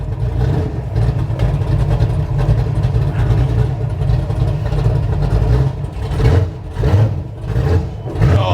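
A 1969 Road Runner with a 660 hp Mopar engine and four-speed idles nearby with a heavy, lumpy low rumble and a few brief revs near the end.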